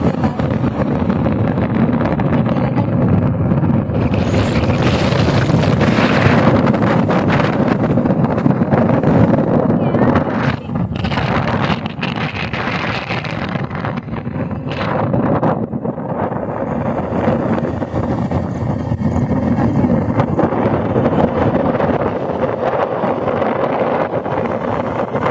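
A boat moves across open water in a loud, continuous rumbling wash, heavily buffeted by wind striking the microphone, with faint voices now and then.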